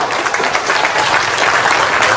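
At a political rally with the Prime Minister in Permatang, Malaysia, a large crowd gives thunderous applause, a loud, even roar of clapping that holds throughout.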